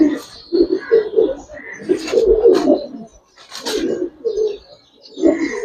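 Pigeons of a deep red colouring breed coo repeatedly in a loft, low throaty calls rising and falling close by, with a pause near the middle before the cooing resumes.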